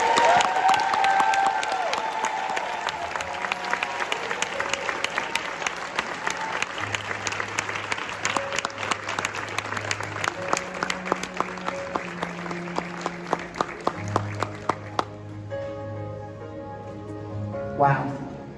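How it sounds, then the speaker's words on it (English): Sustained audience applause fills a commencement ceremony hall for the Disney Dreamers Academy, dense and steady throughout, with sustained music tones underneath and a brief lull near the end before the clapping swells again. "Once more, with your applause throughout the room, let's congratulate the Disney Dreamers."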